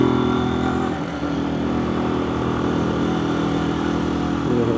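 A motorcycle cruising in second gear without much revving, its engine droning loud and steady close by, with a brief dip in the note around one second.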